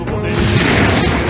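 A fire spell blast in Metaphor: ReFantazio, a loud, dense roaring burst that swells and holds for over a second as a sustained whooshing boom.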